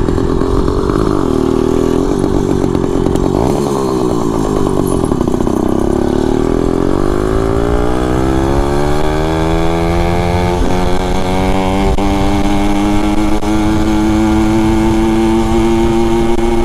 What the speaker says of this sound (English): So it didn't four stroke that time, but usually it four strokes like a motherfucker.